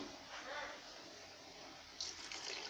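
Water pours into a pot of eggplant curry, a soft steady splashing trickle that swells a little louder near the end.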